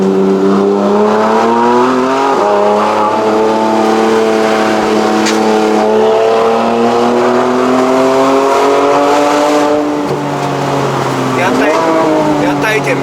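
A 2015 Porsche 911 GT3 RS engine revs and accelerates with a steady rising pitch, heard from inside the car on a mountain run up Genting, Malaysia, with people talking over it.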